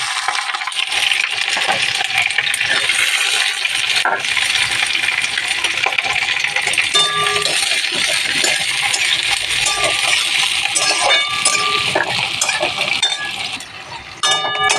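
Chopped onion frying in hot oil in a pan, a dense, steady, loud sizzle and crackle that continues throughout, close up, with faint stirring clinks and no talking.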